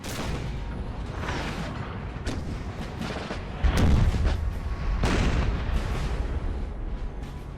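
Booming artillery and cannon fire from a Napoleonic-era battle in the strategy game Napoleon Total War, heavy blasts rumbling over a constant battlefield din with one louder burst near the middle.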